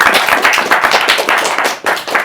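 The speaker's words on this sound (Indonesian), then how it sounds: "Boleh dong tepuk tangannya teman-teman di rumah." An audience claps at a talk show, a burst of dense, fairly close applause with no pause that dips briefly near the end before picking back up.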